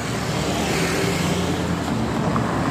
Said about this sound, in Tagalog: Oh, ayan guys, may bus na.